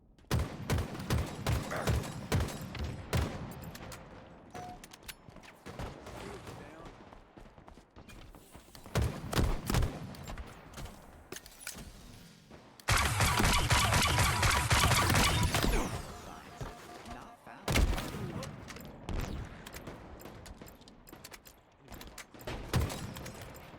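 Gunfire in Halo Infinite rattles in repeated bursts, close and loud, broken by short pauses, with one long sustained stream of automatic fire in the middle before the choppy volleys resume.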